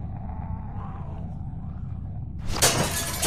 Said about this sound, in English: Use the bat to shatter that window so you can reach in